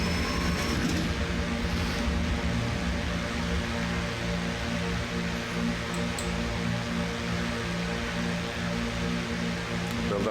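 Steady engine drone of an airplane climbing after takeoff in Flight Simulator X near St. Barth, a constant hum with layered tonal bands holding level throughout.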